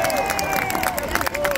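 An audience applauds Franck Tapiro at a public gathering, with a dense, steady patter of clapping and crowd noise beneath sustained tonal sounds throughout.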